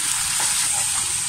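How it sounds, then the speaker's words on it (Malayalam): Chopped lemon frying in hot oil with green chilli, ginger and curry leaves for lemon pickle, giving a loud, continuous close sizzle with a faint stir, and no voices. "ഇനി നമ്മൾ അരിഞ്ഞ് വെച്ചേക്കുന്ന നാരങ്ങ കൊടുക്കാം"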